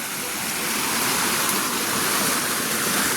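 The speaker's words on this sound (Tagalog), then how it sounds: "ito po yung mababang parte na binabagsakan ng tubig" Continuous rushing, hissing water of a waterfall on a farm lot in Calauag, Quezon, steady and fairly loud, with no other sounds standing out.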